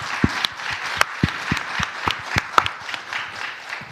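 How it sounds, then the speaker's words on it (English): A modest audience claps at a talk held during a graduate student workers' strike. The claps are loose and uneven, a handful of distinct hands at moderate distance with no voices over them. "clap it up"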